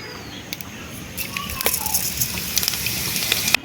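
Cumin seeds frying in hot white oil in a pan, a close crackling sizzle with sharp pops and spatter bursts, heard alone without talk.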